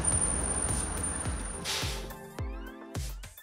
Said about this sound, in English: That was actually our fun bus putting on the brakes.